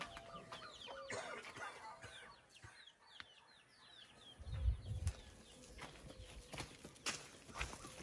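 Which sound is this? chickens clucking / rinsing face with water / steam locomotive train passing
chickens clucking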